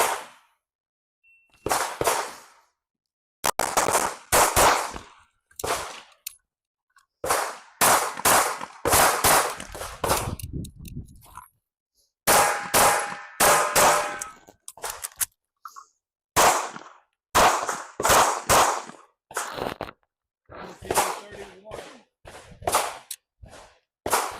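Rapid pistol shots in a timed shooting drill, sharp loud cracks in quick strings of several rounds separated by brief pauses, repeated across many groups, close and echoing.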